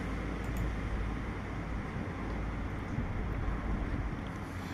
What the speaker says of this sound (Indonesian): Angin tu sebab saya duduk dekat tingkap.